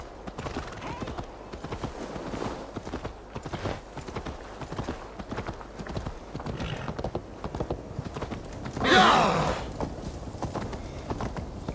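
Horse hooves clip-clop in a steady walking rhythm in the video game Assassin's Creed Valhalla, close and continuous, with a loud whinny-like burst partway through.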